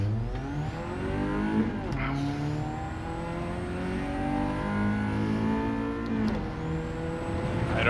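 A Ford Sierra Cosworth 500 lapping the Nürburgring in Gran Turismo 7, its engine droning loud and steady as revs climb through the gears, with two clear gear changes cutting the pitch before it rises again.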